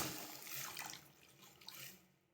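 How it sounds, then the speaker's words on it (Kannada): Water is poured into a bowl holding jaggery, a brief, soft, steady splashing stream that tapers off at the end, with no talking. "ಬೆಲ್ಲ ಹಾಕಿ ನೀರು ಹಾಕ್ತಾ ಇದ್ದೀನಿ"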